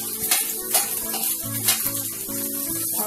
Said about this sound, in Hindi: इसे हम भूनेंगे, 2 से 3 मिनट के लिए इसे और भून लेंगे